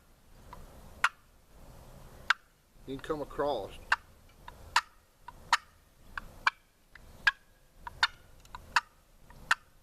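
Sharp, evenly spaced clucks from a wooden turkey box call played on one blade's top side, about a dozen in a steady rhythm, with a brief burst of gobbling partway through and a few words spoken.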